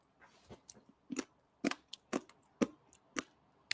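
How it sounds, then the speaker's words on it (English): Crunchy cake topping, a sprinkle-dot decoration on a buttercream birthday cake, crunches close up as it is chewed, a string of sharp, irregular crackly bites in quick succession with no talking. "The crunchies, they're crunching."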